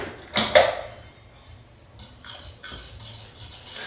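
Semolina and barley flour mixed by hand for homemade Puglia-style pasta, one loud scraping knock followed by quieter, soft rubbing and brushing sounds.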